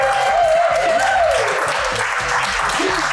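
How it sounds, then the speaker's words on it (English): A studio audience at a cooking show gives steady applause for a chef, a continuous, fairly loud wash of clapping with a faint vocal tone near the start. "Everybody give Chef Gwen a nice round of applause."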